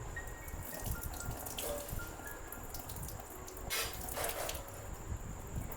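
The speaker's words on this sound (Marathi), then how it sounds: "हे 2-3 पाण्यात स्वच्छ धुवून घ्यायचं." Soaked moong dal being rinsed in water in a kitchen, with steady running and splashing water and light clinks of vessels throughout, no talking.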